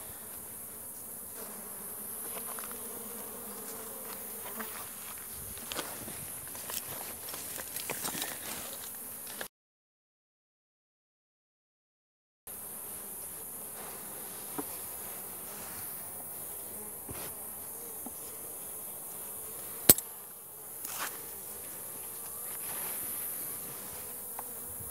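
Honey bees buzz steadily around a weak colony's hive during an apiary inspection, a close, continuous insect drone with scattered sharper passes near the microphone, broken by a brief silent gap midway.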